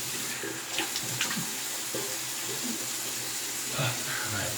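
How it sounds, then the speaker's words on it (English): Tap water runs steadily over a shaving brush being rinsed of lather in a sink, a continuous close splash with brief knocks and shifts in flow throughout. "Let's do let's clean our brush out."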